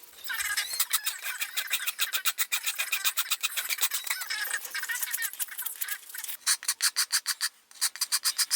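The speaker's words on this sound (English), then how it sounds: "I grabbed a rasp and I shaped the pommel and the guard to their final shapes." A hand rasp shapes the wooden pommel and guard of a Kokiri Sword cosplay prop with rapid, rhythmic scraping strokes, close and loud, speeding into short, distinct pulses toward the end.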